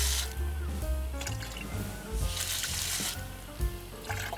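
Liquid being poured into a garden sprayer for treating citrus canker, a continuous gurgling fill with wet squishes and drips at close range.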